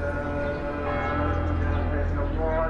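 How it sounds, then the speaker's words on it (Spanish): Church bells ring continuously in Jerusalem, a dense sustained tolling with steady low hum and overtones, fairly loud and unbroken. "solo el sonido de las campanas y de los almohadines revelan al viajero las numerosas iglesias y mezquitas"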